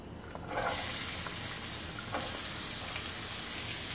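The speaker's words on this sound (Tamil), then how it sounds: "வெங்காயம் கொஞ்சமாக வதங்குற வரைக்கும் வதக்கி விட்டுட்டே இருக்கணும்." Onions sizzle steadily in hot oil in a pan while being fried for yellow mee goreng noodles, a constant loud crackling hiss that jumps up after a quiet start and carries on without talk.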